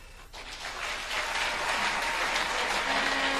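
An audience at the first youth congress of COJEP breaks into applause, a loud, dense wash of clapping that swells quickly and holds steady, with faint voices underneath.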